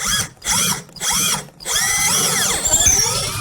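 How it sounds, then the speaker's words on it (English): A power drill whirs in three short bursts, then a longer run as it bites into a wooden stair tread, close and clear. "line my drill bit up parallel with the tread and drill"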